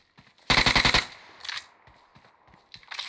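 A quick automatic burst of gunfire rattles out close and loud in PUBG Mobile, followed by softer, more distant shots and a final short volley.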